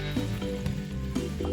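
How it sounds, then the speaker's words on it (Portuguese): Garlic and pieces of mocotó (cow's foot) sauté in olive oil, giving a steady, close sizzle that holds at an even level throughout. "eu refogo uns 4 a 5 dentes de alho no azeite, e em seguida adiciono os pedaços de mocotó"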